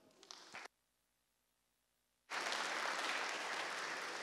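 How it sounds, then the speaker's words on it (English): Applause from a conference audience at a hardware reverse engineering talk breaks out after a short silence, a dense, sustained roar of many hands clapping filling the hall. "Please give him a round of applause."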